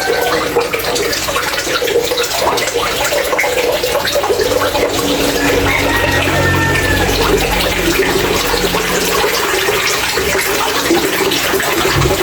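Water gushes and splashes continuously, with a low motor hum underneath as a submersible pump pushes a steady flow.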